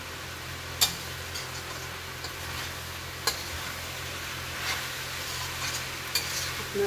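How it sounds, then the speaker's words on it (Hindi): Cauliflower and potatoes stir-fried in a pan for a sabzi give off a faint, steady sizzle, with a few sharp spatula clicks now and then. "इसी तरीके से 5 मिनट के लिए ना भूनते रहना है,"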